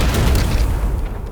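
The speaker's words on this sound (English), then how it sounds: "why would an explosion hurt the enemies?" A deep, rumbling explosion in the video game Halo: Campaign Evolved, a loud sustained boom that swells at once and slowly tails off across the whole short moment.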